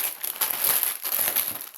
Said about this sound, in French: Il y a du bruitage de papier